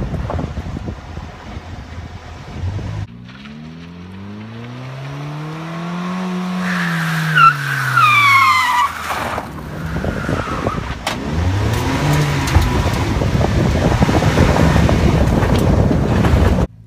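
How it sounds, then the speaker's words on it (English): A rally car drives a lap of a home-built rally track, its engine revving up and down as it passes close by, followed by loud, sustained acceleration mixed with wind buffeting on the microphone. "let me take you on a lap around my rally track around the house"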